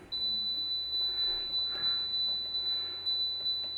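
An air fryer oven gives a series of short, high, clear beeps as its timer is set, evenly spaced and repeated across the moment, near and alone over a faint low hum.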